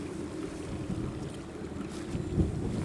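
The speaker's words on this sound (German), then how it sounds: "It's very windy." Strong wind gusts buffet the microphone on a boat out on a lake, a rumbling low roar with water sloshing against the hull, swelling near the end, no voices.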